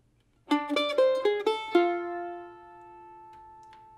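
Mandolin plays the opening phrase of a tune, starting on a D, with about five quick picked notes that ring out and decay into a single sustained note, solo and close.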